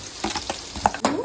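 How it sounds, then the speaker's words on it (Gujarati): Pasta sizzles in a pan of hot tempering oil while being stirred, with short bursts of crackle, a few scrapes and a sharp clink near the end, all close and fairly quiet. "વઘારે છે હવે પાસ્તા"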